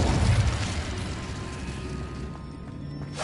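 Fire spell Incendio cast in the video game Hogwarts Legacy, a loud whooshing, crackling burst at the start that fades into a softer roaring hiss.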